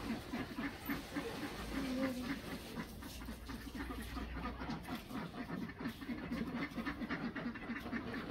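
Village ducks being let out in the morning quack repeatedly at close range, with rough nasal calls over a busy outdoor background.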